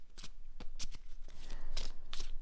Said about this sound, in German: Ich ziehe aber auch noch mal zwei Karten zu.